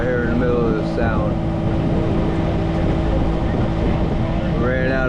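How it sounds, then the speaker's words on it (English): A sailboat's engine runs steadily out on Long Island Sound on the way back toward New Haven, a constant low drone with water noise around it and voices speaking over it. "so we fired up the engine and trying to head back to New Haven"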